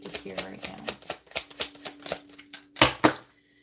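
Tarot cards being shuffled close up, a quick run of crisp riffling flicks and taps ending in two louder snaps, with no voices.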